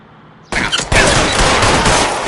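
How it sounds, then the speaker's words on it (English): Rapid gunfire from a shootout in LA Noire starts abruptly and keeps going as a dense, loud, continuous fusillade of overlapping shots, close and sustained to the end. "Covering fire."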